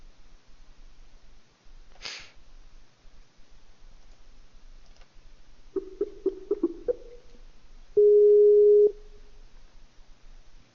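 A Skype call signals with a short tone burst, then a quick series of chirping blips and a steady sustained ringing beep, all clean and close against a quiet background.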